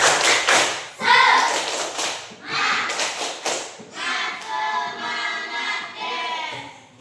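A class does a rhythmic Indonesian clapping chant, tepuk semangat, during a morning lesson: bursts of patterned group claps mixed with children's chanted voices, fairly close and lively, with a short pause between phrases.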